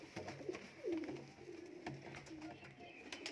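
Dabbwale pigeons, a spotted fancy breed with red eyes, coo softly in a low, rolling rhythm, faint and repeated, with quiet background noise.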